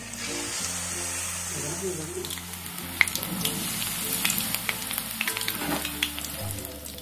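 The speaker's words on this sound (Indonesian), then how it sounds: "Selanjutnya, goreng tahu di minyak yang panas." Stuffed tofu fries in hot oil with a crackly sizzle and scattered pops, fairly quiet, while someone speaks over it the whole time.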